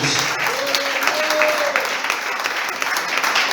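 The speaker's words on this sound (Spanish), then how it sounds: "Denle un fuerte aplauso a Cristo Jesús." A church congregation gives strong applause during a service, a steady roar of many hands clapping together, with a brief voice rising over the clapping near the start.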